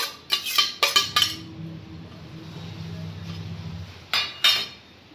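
Metal spoon clinks and scrapes in a bowl while chopped tomato, onion, cucumber and chickpeas for chana chaat are stirred together, a few sharp taps at the start and end around a softer steady mixing rustle.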